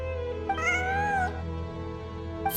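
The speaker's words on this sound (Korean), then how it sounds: "환청이 아니야. 진짜 고양이야." A cat meows in the video game Genshin Impact: one drawn-out, rising-and-falling meow over a steady low background hum, with a short faint mew just before and another just after.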